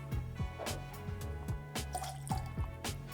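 Lime juice is poured for an Elixirita, a tequila and cognac margarita, giving close, repeated drips and liquid splashes in an uneven rhythm with no talk.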